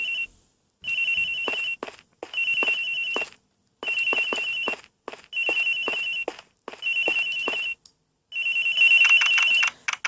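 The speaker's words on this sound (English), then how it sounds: "Agent Hicks's phone, it's ringing from somewhere, sir." A telephone rings in the video game Ace Attorney Investigations. The electronic ringtone repeats in about six evenly spaced bursts, and the last burst is louder and denser.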